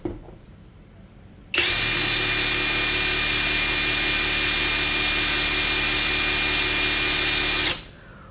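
A Dongcheng DCPB488 cordless brushless impact wrench spins up in high mode after a quiet start, holding a loud, steady motor whine for about six seconds before cutting off abruptly.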